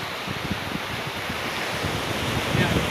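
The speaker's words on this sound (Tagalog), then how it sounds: "Makita mo ang dagat." Sea waves wash steadily onto the shore at San Roque Beach Resort, a continuous surf roar with wind buffeting the microphone.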